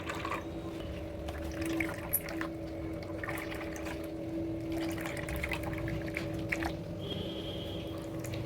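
Thick first-press coconut milk pours and trickles steadily into a vessel, a soft continuous liquid flow at close range with faint drips and no talking.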